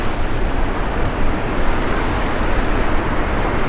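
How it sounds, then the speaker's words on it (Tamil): Athirappilly waterfall roars as a dense, steady rush of falling water heard from nearby, broadband and unbroken with no voices over it. "ஃபால்ஸ் பக்கத்தில் நம்ம வந்துட்டோம்"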